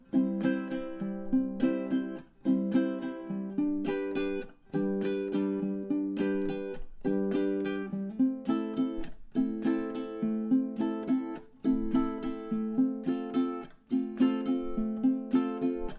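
Ukulele strumming the chords of a song at close to full tempo, steady rhythmic strums with clear ringing chords, played alone and up close without any talking.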